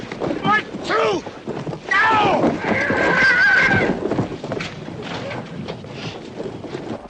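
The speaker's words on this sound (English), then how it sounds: "pull that horse down" Horse neighing loudly and close, several shrill whinnies mixed with shouting men and scuffling on a film set.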